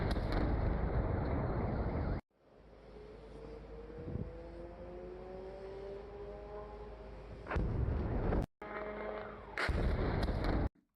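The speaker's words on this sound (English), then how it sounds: "we can hear a lot of these drones incoming and just smashing into targets all over Odessa" Drones striking targets across Odessa during a massive attack on Ukraine: loud booming blasts and rumbling impacts, with a long ringing whine between them, all heard at a distance without talk.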